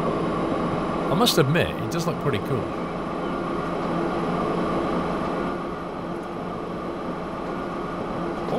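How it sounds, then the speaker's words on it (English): An electric train in the video game Transport Fever rolls along with a steady, even mechanical drone, someone talking over it briefly near the start. "First electric train to arrive, buy an electric train to run a line."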